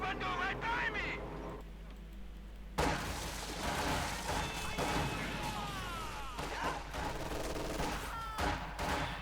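Bursts of machine gun fire and other gunfire in a Company of Heroes 2 battle, set among explosions and game sounds, with a voice talking over the combat.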